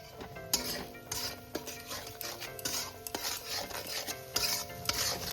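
Spice masala with turmeric being stir-fried in a pan for a pabda malaikari, with steady scraping and clinking of a spatula against the pan over a low sizzle, close and continuous.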